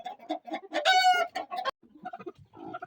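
Indian Gurk chickens in a coop give a close, busy run of clucks and short calls, with one louder drawn-out crow-like cry in the middle and no talking.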